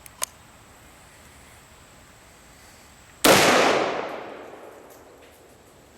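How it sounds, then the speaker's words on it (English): A single loud gunshot from a .454 Casull Taurus Raging Judge revolver fired at a watermelon cracks out sharply and rings off in a fading tail, with quiet outdoor background before and after. "Why don't you shoot the watermelon?"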